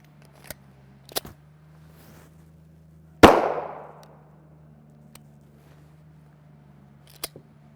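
A single sharp report from a 9mm pistol firing 115-grain FMJ Sterling steel-case ammunition, loud and close with a ringing decay, surrounded by a few faint clicks and a steady low hum; no talking.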